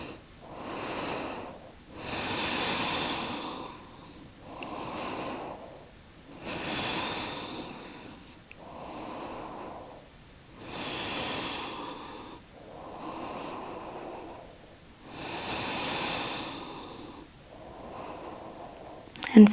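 During a vinyasa yoga flow, slow, deep breaths come through loud and close as about nine audible inhale-exhale cycles. Each breath is airy and drawn out, sometimes almost snorting, with short quiet gaps between them and no talking.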